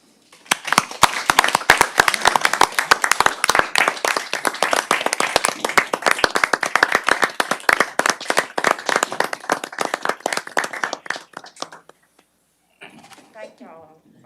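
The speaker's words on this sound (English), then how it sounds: "I think we need to give him applause." Applause at a city council meeting: a small room of people clapping crisply and steadily for about eleven seconds, close and distinct, then fading out before a brief bit of speech.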